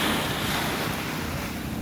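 Sea waves wash steadily onto a beach at Zambales island during a birthday beach party. The roar of surf is continuous and broadband, with wind buffeting the microphone and no voices.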